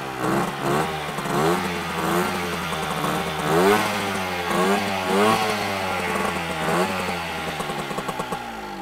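A Dakota moped from around 1975, not fully original, starts up and runs with a raspy two-stroke engine sound. It revs up and down repeatedly, loud and close, and nobody speaks over it.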